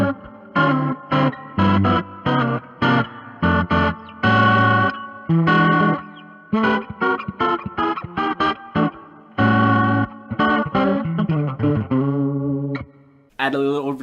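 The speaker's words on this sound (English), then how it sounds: "If I crank all the knobs to 10 and keep the deep switch down, I get this neat Leslie sounding sound." Guitar run through an effects unit with every knob at 10 and the deep switch down gives a swirling Leslie-like warble, as short choppy phrases and chords pulse in bursts with brief gaps, ending on a sustained tone.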